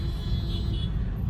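Heavy road traffic in a jam at Saharanpur Chowk, Dehradun, a steady low rumble of idling and crawling vehicles close by with no distinct horns.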